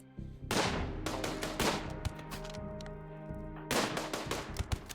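Heavy SMG gunfire in the RimWorld video game: loud rapid bursts of automatic fire, one burst after another with short gaps, dense and close throughout.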